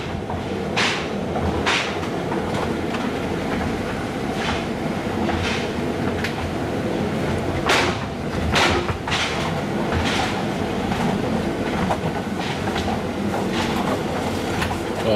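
Constant low rumble of a bumpy train ride, with occasional clanks and rattles from the carriage, heard from inside.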